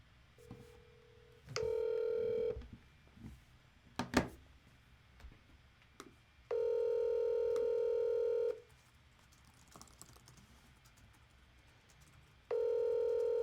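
A telephone dials out with DTMF keypad tones, followed by three long, steady ringback or dial tones separated by gaps and a few faint clicks, loud and alone with no talking.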